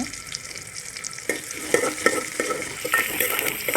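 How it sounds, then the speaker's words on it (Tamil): Onions, whole garlic cloves and curry leaves sautéing in a pan, heard as a close, steady sizzle with scraping stirring strokes and spoon clinks over the frying hiss. "நல்லா வதக்கி விடுங்க. வெங்காயம் நல்லா வதங்கணும், பிரிஞ்சு நல்லா வதங்கணும்."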